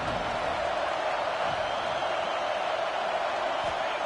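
A stadium crowd in EA College Football 26 rises on a big third down, forming a steady, broad roar of massed voices that holds evenly throughout with no distinct individual sounds.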